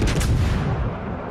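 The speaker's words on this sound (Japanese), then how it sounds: "あの子に援護射撃をお願いよ。" Booming covering artillery fire from a warship in a naval combat video game rolls out in a loud, sustained blast and then fades into a rumbling tail.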